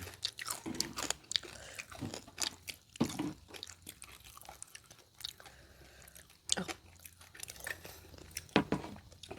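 Crunchy bites and wet chewing of crispy squid in a spicy Thai squid salad, close to the mouth, with repeated irregular crunches and mouth sounds across the whole stretch and no talk.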